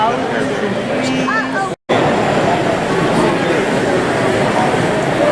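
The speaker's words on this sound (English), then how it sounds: "there's a train going by" Loud continuous rumble and roar of a passing train, with a brief voice early on and a sudden cut before the rumble resumes.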